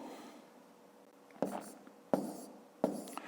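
Pen or chalk strokes writing numbers while working long division for a fifth-grade math exercise, three short sharp scratching bursts spaced about a second apart after a quiet stretch, close and fairly soft.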